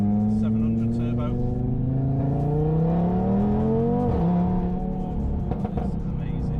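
An Audi TT RS running a stage 3 APR tune with a TTE700 big turbo, interior engine drone climbing steadily in pitch under acceleration, dropping sharply at a gear change, then pulling again. A person talks over it.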